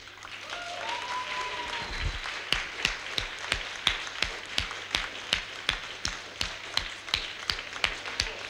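Live concert audience applauding a band at a TV dance show, steady rhythmic clapping that builds into regular loud claps, with no talk.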